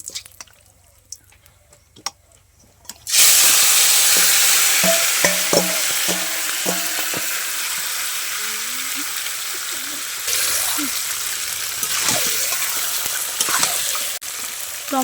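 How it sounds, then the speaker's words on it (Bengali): Marinated turkey meat dropped into hot spiced oil with cumin, a sudden loud sizzle that settles into steady close frying, broken by stirring clinks and scrapes of a spoon in the pan. "আর এই যে ম্যারিনেট করা মাংস আমি এখন এর মধ্যে দিয়ে দেবো।"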